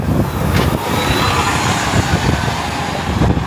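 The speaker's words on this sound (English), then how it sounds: "that driver pushed the gas pedal way too hard. That's why that car made a lot of noises." Loud, rough roar of a car accelerating hard on a street by Toronto's Lakeshore West, the engine bellowing close by for several seconds with rumbling bursts and traffic noise behind it.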